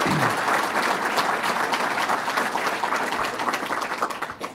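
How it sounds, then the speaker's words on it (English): An audience gives the mayor a sustained round of applause at a governor's event in Rochester, many hands clapping in a dense, loud wash that gradually thins toward the end. "Let's give her a round of applause"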